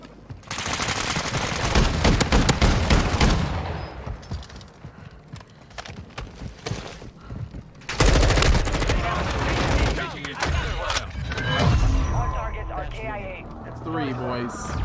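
Rapid bursts of gunfire from a Call of Duty: Warzone 2.0 battle royale match, dense and loud in two long stretches with a short break between, mixed with players' voices talking over the shooting.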